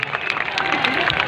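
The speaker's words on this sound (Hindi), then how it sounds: "जोरदार तालियां" Loud, dense applause fills a radio studio show, a continuous wash of many hands clapping together with some crowd noise mixed in.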